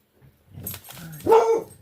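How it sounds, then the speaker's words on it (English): A dog barks at someone at the front door of a house, a few short, close barks and whimpering yips rising to a louder bark near the end, with no talk. "Now there's my dog. She heard somebody at the front door."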